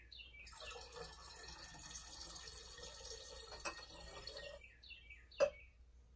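Liquid poured into a laboratory separatory funnel, a close, quiet stream of trickling and splashing for several seconds, then stopping, followed by a single sharp glassy clink.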